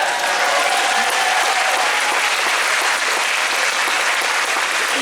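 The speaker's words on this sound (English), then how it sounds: "Yo, better clap for that." Sustained, dense applause from a live audience at a Q&A event with Ian McDiarmid, a steady roar of many hands clapping continuously, close and loud throughout with no talk over it.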